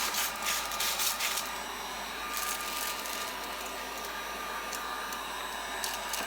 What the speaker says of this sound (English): I'm just going to pass the heat gun back and forth.